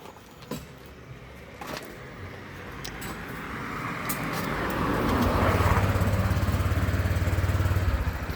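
Motorcycle engine runs steadily nearby, its drone slowly building louder toward the end as it revs or approaches, with road noise and no talking.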